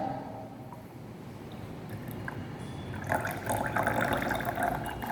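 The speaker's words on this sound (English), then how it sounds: "you pour it and filter the liquid" Liquid trickles and drips steadily, quiet at first and then a fuller pouring splash near the end, with no voices.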